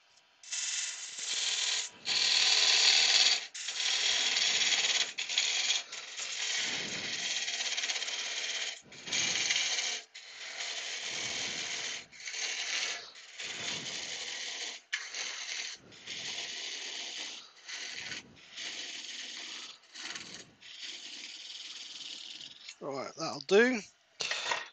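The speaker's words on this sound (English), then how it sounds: "just finish it off with a gouge." Woodturning gouge finishing a wooden snow lady on a lathe, a series of bright rasping cuts in bursts of a second or two separated by short pauses, ending with a quick squeal.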